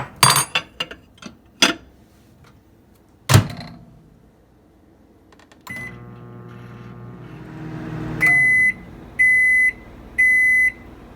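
Microwave oven heating chicken and white rice: clinks and a door clunk, then a steady low hum as it runs, ending in three loud beeps.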